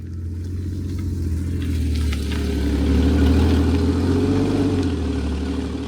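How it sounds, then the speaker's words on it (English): A Porsche Boxster's flat-six engine with sports exhaust rumbles steadily at close range, its deep exhaust note swelling slightly as the revs rise midway, with no voices. "it sounds more powerful because of the sports exhaust and that flat six engine"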